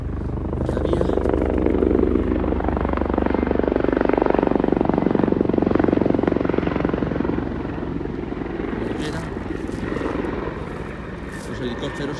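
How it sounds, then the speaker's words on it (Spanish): Helicopters flying low overhead above a burned wildfire area near vineyards give off a loud, steady rotor drone that swells and then slowly fades over several seconds. "Helicópteros encima de nosotros."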